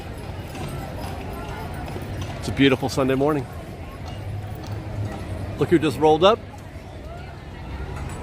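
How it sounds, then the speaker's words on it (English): Horse hooves clip-clopping as a horse-drawn streetcar rolls along Main Street at Disneyland, faint and steady under background crowd chatter, with someone speaking twice. "Horse-drawn streetcar."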